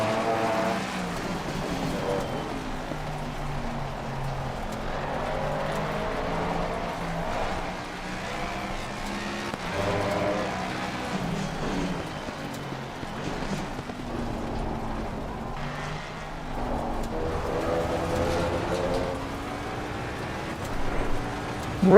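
Ford Mustang GT3 race car engine in Assetto Corsa Competizione, a steady droning roar that rises and falls through gear changes over a sustained stretch, with no voices over it.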